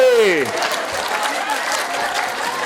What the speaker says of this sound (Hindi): जोर से ताली बजाओ, जोर से